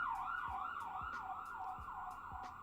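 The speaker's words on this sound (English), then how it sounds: "I apologize for the sirens in the background." A wailing emergency siren rises and falls repeatedly, somewhat distant and muffled, with faint traffic noise underneath.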